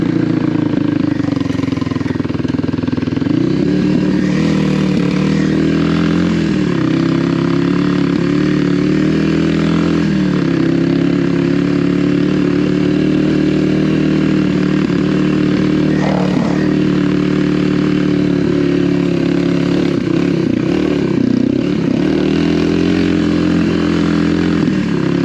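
A Kawasaki KLX300R dirt bike engine lugs at low revs in fourth gear, a loud continuous thumping drone that swells and dips with the throttle, with occasional sputters and pops, up close.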